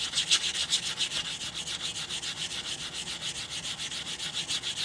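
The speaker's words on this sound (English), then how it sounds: "We're gonna sand the cut edge again." Steady, rhythmic abrasive sanding on the cut edge of a silver coin ring, a bright hissing rasp repeating in quick even strokes, close and continuous with no talking.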